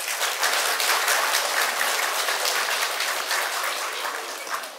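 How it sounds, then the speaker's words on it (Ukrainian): An audience at a spring celebration honoring women gives sustained, even applause, many hands clapping together at steady volume that eases slightly toward the end. "Оплески для вас, любі жінки!"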